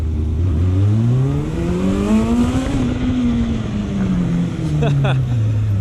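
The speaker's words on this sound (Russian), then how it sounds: "Вот на первой передаче открываю газ. И сразу полетел." A 2003 Yamaha XJR400 four-cylinder motorcycle engine with an aftermarket muffler revs up loudly in first gear, its pitch climbing steadily then falling back, a continuous close roar with no pause.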